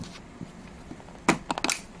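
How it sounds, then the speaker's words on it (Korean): A RAM module is pressed firmly into a motherboard slot during a Ryzen 7 7800X3D PC build. A few sharp, close plastic clicks and snaps bunch together near the end over faint room noise. "꽉 꽂으면 따까닥 이런 소리가 나죠?"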